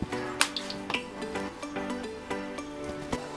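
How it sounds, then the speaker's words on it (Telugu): Kodbale (chegodi) dough snacks fry in hot oil over medium flame, with a steady sizzle broken by clinks and scrapes of a utensil stirring in the pan. Rhythmic knocks and a faint music-like tone sit underneath. "వీటిని నూనెలో వేయించి తీసుకోవాలి"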